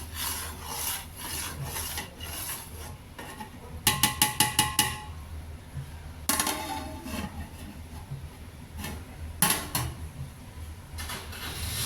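Pepper paya pulao with goat trotters being stirred in a cooking pot, giving steady scraping and rubbing strokes with bursts of rapid clinking against the metal, close and alone with no talk.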